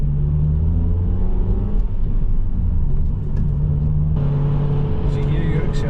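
A rusty Honda Civic Type R accelerates on a Formula One Grand Prix race track, a steady in-cabin engine drone that rises in pitch partway through, with a voice talking over it.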